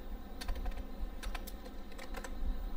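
Keys clatter on a computer keyboard as a name is typed, a quick irregular run of light clicks in short bursts over about three seconds, close and moderately quiet against a low steady hum, with no talking.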